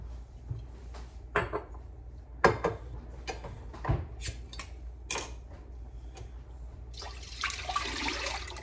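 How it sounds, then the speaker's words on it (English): Beef stock is poured into a soup pot for Pennsylvania Dutch slippery pot pie, with intermittent clatters and knocks followed by a soft, sustained splashing pour near the end, all fairly faint and close. "we're gonna add in our beef stock."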